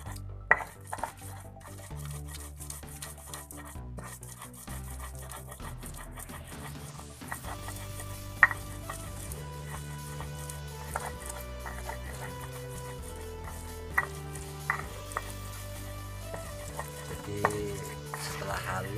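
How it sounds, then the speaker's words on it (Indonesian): Ground chili, galangal and ginger stirred and pressed in a pan, with close scraping and clinking of utensil on pan and light sizzling, sharp knocks scattered throughout. "kita aduk sambil digiling-giling lagi supaya memperhalus lagi"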